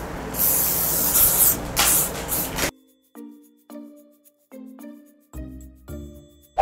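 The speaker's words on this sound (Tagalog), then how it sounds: "Ito palang ano yon, setting spray." Makeup setting spray hisses in a close, continuous burst for nearly three seconds, followed by a series of light chiming tones.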